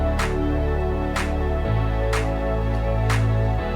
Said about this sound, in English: that's where I want to bring in the bass and some claps